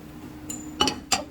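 A frying pan lifted off the stove in a home kitchen after cooking chicken, giving a faint scrape and then two sharp metallic clinks close by, with no voices.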